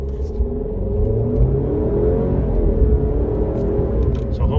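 An Alfa Romeo Giulia Veloce inline-four engine revs up with a low, rising rumble under road noise, heard from inside the car, loud and continuous.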